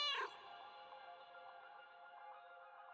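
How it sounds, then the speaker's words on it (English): A cat meows once from a meow button in a stealth video game, a short bright call at the start, then a steady synthetic background tone carries on alone. "I have a meow button."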